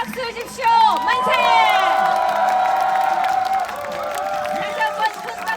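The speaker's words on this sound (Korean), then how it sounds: "다시 한번 큰 박수와 함성이 지금 필요합니다" A large crowd at a presidential campaign rally at COEX in Seoul cheers, shouts and applauds in a loud, sustained roar, with clapping that fades slightly toward the end.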